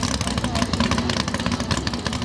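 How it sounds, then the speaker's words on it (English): A 1936 Chevy drag racer with a 712 VZ big block Chevrolet race engine revs in rapid, choppy pulses, loud and rough at the track, with an announcer talking over it. "712 VZ race engine, big block Chevrolet"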